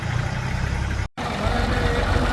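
Farm tractor engine running during field sowing work, a steady low rumbling drone close by, interrupted by a momentary dropout midway before the same continuous engine noise resumes.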